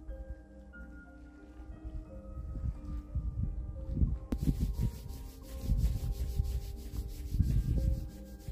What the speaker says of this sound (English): I'm rubbing my hand.